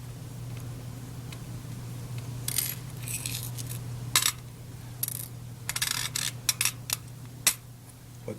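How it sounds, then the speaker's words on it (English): Tiny steel wheels and screws from a modern pocket watch are tipped into a container on a workbench. They make scattered light clicks and tinkles, close and quiet, over a steady low hum. "I'm going to spread that out into a container so that the parts don't roll all over the bench."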